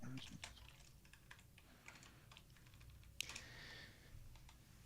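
Fast, irregular key clatter from a computer keyboard as code is written, close and quiet, with a person talking faintly underneath.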